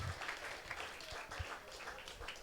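Applause from a church congregation during a revival evening service, a dense, moderately distant patter of clapping with a few low thumps mixed in.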